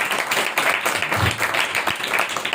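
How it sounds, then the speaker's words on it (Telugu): A church congregation claps together during a Sunday service, a dense, continuous burst of many hands applauding at once with a few voices faintly mixed in. "చప్పట్లు కొట్టండి"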